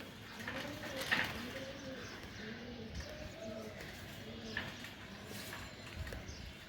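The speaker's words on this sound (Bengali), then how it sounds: "এখানে এক পেয়ার ছাড়াছাড়ি লাইনের বাঘা সবুজ গলা কবুতর আছে" Old-breed green-necked Bagha pigeons coo in repeated soft, low phrases close by, with a steady faint background hum and a few brief knocks.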